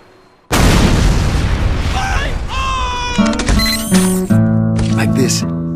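A heavy-caliber, tripod-mounted sentry gun built by an engineer fires in a video game: a sudden loud burst of booming shots, then mechanical whirs and bright electronic beeps over a dense, sustained din.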